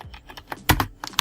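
Fingers type on a computer keyboard, a quick uneven patter of close, clicky keystrokes with one heavier tap midway, brisk and unaccompanied by talk.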